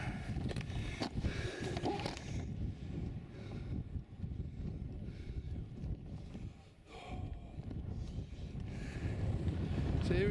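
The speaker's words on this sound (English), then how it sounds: "The wind's gusting through here. Cold in the wind as well." Cold wind gusting hard against the microphone on top of Sheep's Tor, Dartmoor, in winter, a low rumbling roar that swells and eases, with a voice speaking underneath at times.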